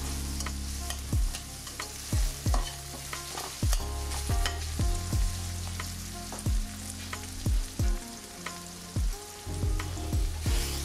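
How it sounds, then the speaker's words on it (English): Garlic sizzles in a hot pan, cooked to flavor radish greens, while a utensil scrapes and stirs it in repeated strokes over a steady frying hiss; no one talks. "gonna scrape that garlic goodness off the bottom. Give that a mix, because we definitely don't want to burn that garlic."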